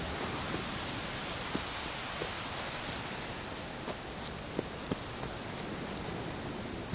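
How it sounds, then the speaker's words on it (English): Rain falls in the video game The Witcher 3: Wild Hunt, a steady soft hiss of rainfall with scattered individual drops ticking through it. "Looks like rain."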